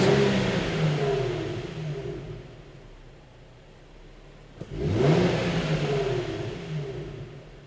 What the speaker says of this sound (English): after about 20 seconds of idle, we're going to rev the engine up a few times